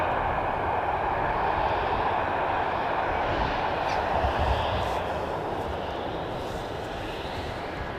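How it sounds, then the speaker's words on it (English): A jet taking off far away on the Polderbaan runway 24 at Amsterdam Schiphol gives a steady, broad roar that fades slightly toward the end, with no voices. "You can see a plane take off in the distance from the Polderbaan runway 24."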